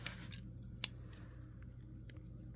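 The small scissors of a Victorinox Ranger pocket knife give one crisp metallic snip close up, followed by a fainter click, in a quiet room with a low steady hum underneath.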